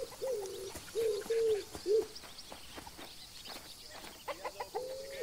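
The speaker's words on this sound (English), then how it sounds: "I thought I heard chickens." Chickens in the Alba wildlife game, repeated soft cooing clucks in short runs near the start and again at the end, over a steady outdoor ambience of birds and breeze.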